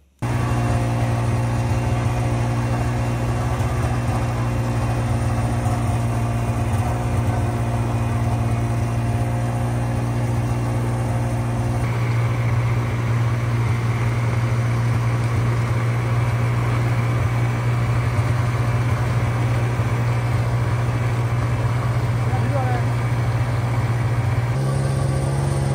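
A snow bike engine in snowy Gulmarg, Kashmir, runs with a steady, loud droning hum throughout, its pitch shifting slightly partway through, with no voices.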